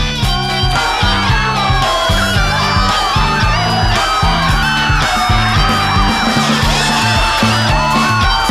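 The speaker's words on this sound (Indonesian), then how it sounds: "Jawaban kelompok B benar, berikan tepuk tangan." A school quiz competition audience yells and whoops loudly over steady, pulsing background music, a continuous crowd roar with no clear break.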